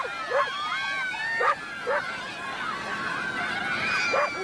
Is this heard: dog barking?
yes